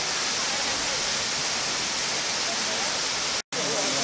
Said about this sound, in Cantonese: 呢度係另外一個瀑布啦，